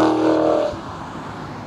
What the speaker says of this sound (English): The exhaust note is intoxicating, and you just want to step on it all the time.